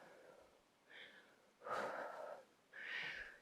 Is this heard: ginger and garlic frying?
no